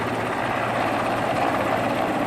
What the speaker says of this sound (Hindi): काफी नीचे आकर हेलीकॉप्टर लोगों तक खाना गिरा रहा है